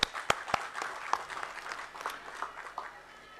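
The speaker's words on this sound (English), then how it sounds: "a big round of applause to each one of you in this room" Room audience at a National Logistics Day plenary clapping, starting with a few sharp distinct claps that quickly merge into a brief round of applause, then taper off toward the end.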